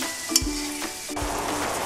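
Paneer and spices sizzle steadily in a covered pan, a continuous close frying hiss broken by a couple of soft knocks and scrapes as the lid or spoon shifts.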